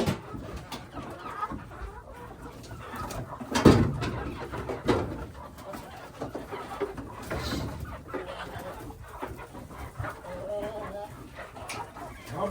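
Hens cluck and murmur inside a homemade DIY chicken coop, a busy close flock with scattered louder squawks, and a person talks intermittently among the birds.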